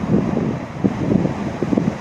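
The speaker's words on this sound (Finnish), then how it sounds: "Täällä tuulee." Wind gusting outdoors beside the rapids at Kukkola, a steady broadband rush with low buffeting bursts against the microphone and no talk.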